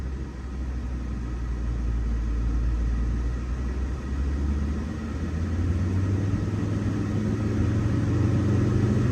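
Car engine idling high at about 2,000 RPM with an air-conditioning system running, a steady close rumble and drone that holds throughout with slight swells.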